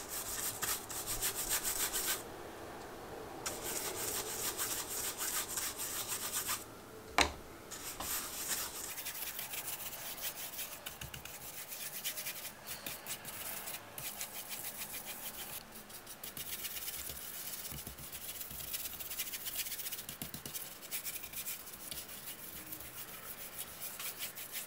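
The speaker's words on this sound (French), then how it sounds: "l'idée c'est vraiment juste de venir teindre ma toile pour pas travailler sur fond blanc" A brush dragging water-soluble oil paint across a canvas to tone it, giving a steady close-up scratchy rubbing that runs the whole time with a few louder strokes and one sharp tap partway through.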